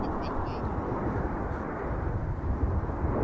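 A Frecce Tricolori solo jet leaves the display at an airshow, producing a dense, loud broadband jet rush that sustains without a break, with faint bird-like calls near the start.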